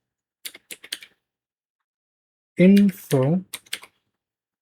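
Keyboard keys clatter in quick, close, light bursts while a search is typed into a computer browser, with a short burst of speech breaking in midway before more typing follows.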